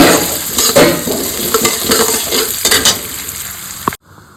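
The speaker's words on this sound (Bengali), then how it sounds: "এই সর্ষের তেলে এখন গোবিন্দভোগের চালটা ভেজে নেবো" Gobindobhog rice frying in mustard oil, a steady close crackling sizzle with scraping stirring strokes and a few light utensil clinks, cutting off sharply near the end.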